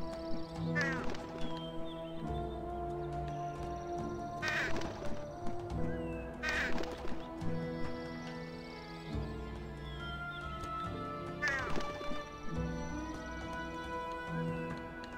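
A bird squawks in the action video game Sphinx and the Cursed Mummy, with harsh calls in a few separate bursts over a continuous tonal game music bed.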